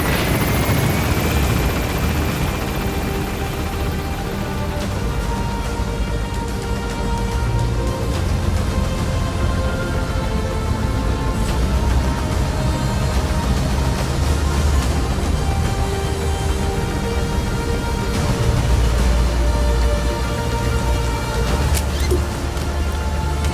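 A helicopter in the Metal Gear Solid V video game lifts off for extraction, its loud, steady rotor thump and turbine whine filling the scene continuously with no speech.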